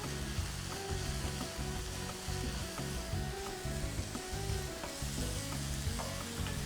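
Capsicum sautés in a pan for millet fried rice, a continuous close sizzle with steady stirring and scraping, no talking.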